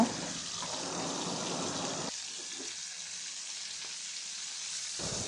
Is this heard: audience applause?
no